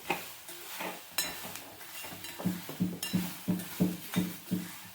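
Cluster beans roasting with a pinch of salt in a pan, stirred with a utensil that knocks and scrapes in a steady rhythm of about a dozen close metallic clinks, with no voices.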